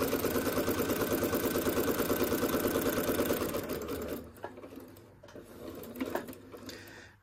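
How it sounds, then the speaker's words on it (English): A sewing machine back stitches and sews down a fabric quilt block at 2.4 stitch length, running in a steady, fast, close mechanical chatter that slows and fades into scattered softer stitches and handling noises. "I am going to do a back stitch and just sew all the way down"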